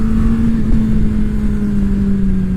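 Suzuki Hayabusa motorcycle at high gear and low revs, its engine a loud, steady, close drone with a sustained tone and no break.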